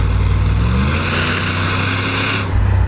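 Mercedes fitted with a Porsche engine cornering on a road, its engine a steady, smooth drone with low harmonic layers, fairly loud and close, continuing evenly before a brief dip near the end.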